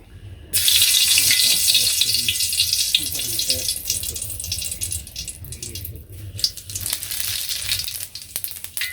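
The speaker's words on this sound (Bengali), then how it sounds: "তো এই যে কড়াইতে তেল দিয়ে দিলাম" Oil poured into a wok bursting into a sudden sharp sizzle that hisses steadily and gradually eases, close and fairly loud, with faint talking underneath.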